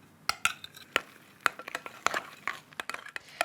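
A spoon folds a chocolate peanut butter cheesecake mixture in a bowl, giving soft scraping and sticky clicks against the side at an irregular pace, close and fairly quiet, with no talking.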